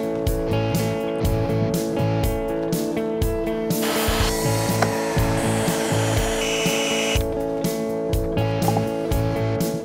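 A power tool drives screws into wood while a kids' wooden playhouse is being built, whirring in short repeated bursts with a steady hum in between, close and fairly loud, with no talking.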